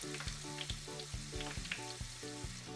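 Small Cretan mizithra cheese pies frying in hot oil in a pot, giving a steady close sizzle with repeated bubbling bursts and soft pops, no voices.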